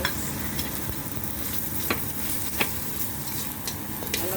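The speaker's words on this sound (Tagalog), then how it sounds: "Gisa. Isunod ang luya." Ginger sautés for chicken tinola with papaya and malunggay leaves, a steady close sizzle broken by occasional clicks and scrapes of stirring.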